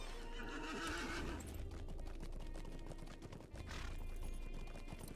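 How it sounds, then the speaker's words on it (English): Horse neighing and hooves clip-clopping in the online game Lord of the Rings Online, a whinny followed by steady hoofbeats under constant ambient noise, with a second swell of neighing later. "I think this will be the final horse that we have to take"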